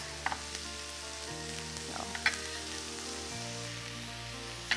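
Garlic fries in a pan, giving a quiet, steady sizzle with a few faint pops and crackles and no talking.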